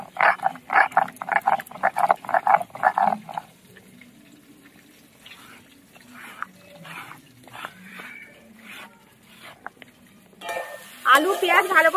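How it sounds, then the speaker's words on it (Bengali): Boiled potatoes and onions with salt fry in a pan, with stirring scrapes and sizzling in bursts, rhythmic stirring at first, then softer sizzle and clatter before a louder spatter near the end. "দিয়ে দেবো লবণ, দিয়ে আলু আর পেঁয়াজ ভালো করে আরেকবার ভেজে নেবো।"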